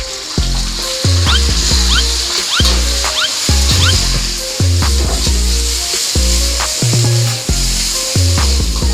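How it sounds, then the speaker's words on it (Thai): Garlic fries in hot oil in a pan for a Thai spicy eel stir-fry, with loud, constant sizzling and occasional stirring under background music. "พัดให้กระเทียมมันเหลือง นะครับเพื่อมีกลิ่นหอมนะฮะ"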